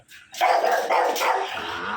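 A dog barks and yelps loudly nearby, a continuous agitated outburst lasting a couple of seconds.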